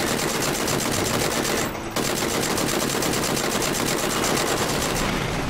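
UMP submachine gun in PUBG rattles off continuous rapid automatic fire, loud and dense, with a brief dip partway through before the stream resumes.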